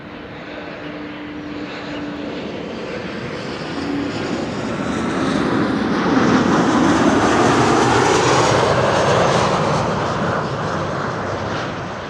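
A KLM passenger jet arriving from Bologna lands at Amsterdam Schiphol, a broad engine roar that builds gradually, peaks loudly midway and then slowly tapers, with no voices over it.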